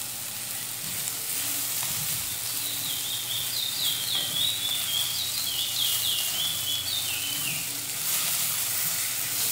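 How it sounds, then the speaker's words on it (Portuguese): Food sizzles steadily in a pan as it is stirred with a chimichurri seasoning, a continuous close frying hiss with faint scraping, no voices present. "Dá aquela mexidinha"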